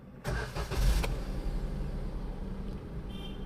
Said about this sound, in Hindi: तो अभी गाड़ी स्टार्ट कर लेते हैं।